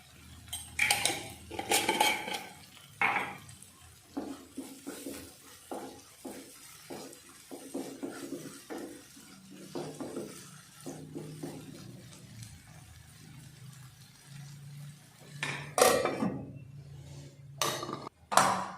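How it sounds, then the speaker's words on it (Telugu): Metal spoon scraping and clanking in a pan as ginger paste is stirred and fried for tomato rice, with irregular close knocks and scrapes spread throughout, brief bursts of sizzle, and no talk. "అల్లం పేస్ట్ వేసాం కాబట్టి దానికి పచ్చి వాసన పోయే వరకు మనం ఫ్రై చేసుకుంటే సరిపోతుంది"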